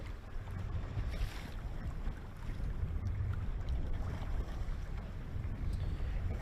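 Strong east wind over a choppy lake near a bass fishing boat, a steady loud roar of wind and water with buffeting on the microphone and no voices.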